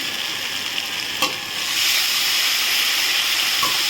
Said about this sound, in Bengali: এবারে আমি পেঁপে ভাজা আর আলু ভাজাটা দিয়ে দেবো। এটা দিয়ে আবার কষাবো।